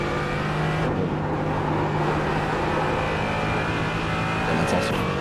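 A TCR touring race car in iRacing drives the Nürburgring, its engine a loud, continuous, steady drone that stays close and even in pitch throughout.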